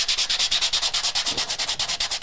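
Wooden coasters being sanded by hand, a close, loud run of quick regular rasping strokes repeating steadily with no voices.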